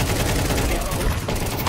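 Gunfire exchange in Counter-Strike 2 on the Dust2 B bombsite, a fast, loud burst of rapid automatic shots running almost continuously, with a player talking over it.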